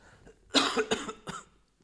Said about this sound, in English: Sorry, cough again.